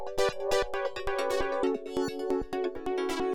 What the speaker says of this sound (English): I layered the same exact progression with this SD Warped Waves ARP sound